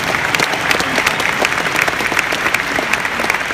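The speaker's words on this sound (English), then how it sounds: "give that a round of applause" An audience at an honoring event bursts into continuous, loud applause, many hands clapping densely with slight crowd murmur, sustained throughout.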